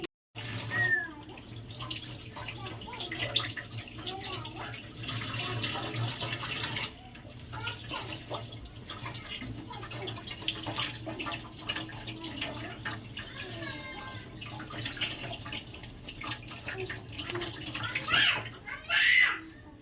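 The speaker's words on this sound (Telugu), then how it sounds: "ఇప్పుడైతే నేను క్యాప్సికమ్ అయితే శుభ్రంగా కడిగేసి కోసేసుకుంటాను పీసులు కింద" Capsicum is washed under a running kitchen tap, making a steady splashing water stream with small knocks and handling noises close by.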